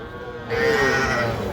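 A single drawn-out cow moo rises over background crowd noise at a busy cattle market, fairly close and loud.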